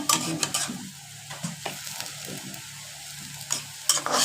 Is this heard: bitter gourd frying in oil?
yes